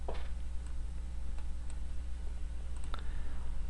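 Mouse clicks on a hub inside Cisco Packet Tracer network simulation software, a few faint, sharp clicks spaced apart over a steady low hum, with no talking.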